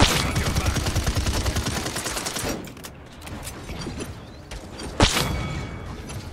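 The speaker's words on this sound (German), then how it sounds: "Ich werfe mal eine Granate." Explosive gunfire and blasts in the video game Paladins while a grenade is thrown at enemies: a dense loud barrage for a few seconds, fading to a quieter rumble, then one sharp detonation near the end.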